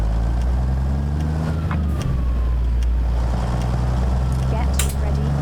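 Peterbilt 379 truck in American Truck Simulator running a modded Cummins N14 engine, a steady loud low drone throughout with a voice talking over it.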